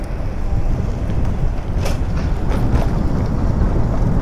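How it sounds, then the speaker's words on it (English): A train rolling past in town, heard from an e-bike ride as a continuous close rumble and rattle mixed with heavy wind buffeting on the microphone. "Oh, it's a train."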